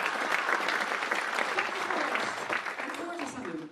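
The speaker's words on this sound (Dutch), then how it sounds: "Geef hem een warm applaus." Sustained audience applause at a medical public lecture evening on the heart, dense steady clapping from a seated crowd that holds for several seconds and begins to thin near the end.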